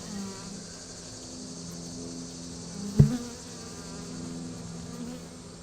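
Honeybees hum steadily in an open hive during an inspection of a heavy, full super, with a continuous mid-level drone throughout and one brief knock or bump near the middle.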